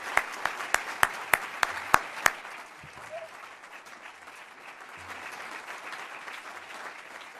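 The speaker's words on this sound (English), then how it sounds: "you're not clapping for me" A handful of sharp, close hand claps ring out in a quick series, joined by a softer spread of forum audience applause that continues steadily at moderate volume after the near claps stop.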